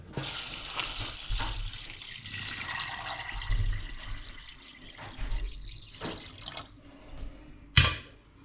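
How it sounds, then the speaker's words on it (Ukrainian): Fresh water pours from a tap into a container of soaked corn kernels, a splashing, gurgling flow with uneven surges and a sharper splash near the end, fairly quiet and close. "Так що будемо воду цю зливати і доливати свіжою."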